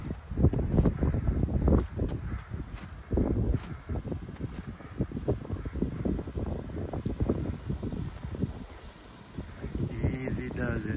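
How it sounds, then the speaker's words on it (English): Gusty wind buffets the microphone throughout during a snowy off-road drive, a low rumbling roar with voices talking over it. "It is windy"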